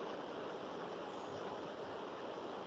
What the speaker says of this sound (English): we can rinse the cuvette once